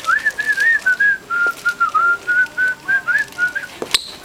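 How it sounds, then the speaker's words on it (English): A person whistles close and loud in a steady series of short tones at a roughly even pitch, ending with a sharp knock. "Whistle in there."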